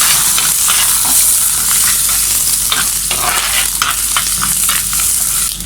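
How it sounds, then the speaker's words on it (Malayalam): Mustard seeds, curry leaves and garlic fry in hot oil, giving a dense, steady sizzle with crackles and pops throughout, close and fairly loud, with no voices. "കടുക് ഇട്ട് പൊട്ടുമ്പോഴേക്ക് നമുക്ക് കറിവേപ്പിലയും വെളുത്തുള്ളി ഇട്ട് കൊടുക്കാം."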